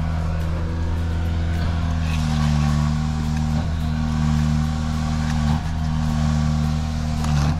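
Heavy truck arriving at a construction site for a footing concrete pour, its engine a steady loud low drone with rising revs throughout, no talk over it.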